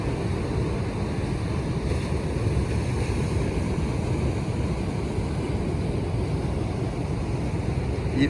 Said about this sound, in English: This ocean is not allowing nobody to launch this morning by the looks of things.